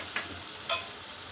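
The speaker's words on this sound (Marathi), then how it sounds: "फोडणी करपू नये म्हणून थोडंसं आपण पाणी टाकणार आहे. आता आपण मसाले टाकूया." Spices such as turmeric, coriander powder, cumin powder and red chilli drop into hot oil tempering in a pan, with a splash of water added. Two short, soft sizzling bursts crackle over a low, steady hiss.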